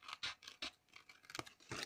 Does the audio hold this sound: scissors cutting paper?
yes